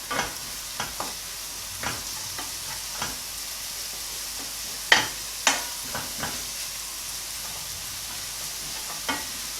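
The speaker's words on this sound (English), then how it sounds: "We're going to brown off the onions, and then we're going to put our spices in." Onions and garlic frying in a pan, a constant soft sizzle with scattered scrapes and taps of a utensil stirring at irregular intervals, close and without speech.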